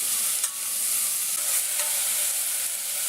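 Chopped onion and carrot fry in a pot with a bright, steady hiss and sizzle, close and continuous, with a couple of light stirring scrapes.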